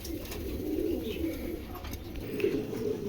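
Pigeons cooing at a racing pigeon farm in Bangladesh, soft repeated low coos overlapping close by, with faint chirps and light background noise.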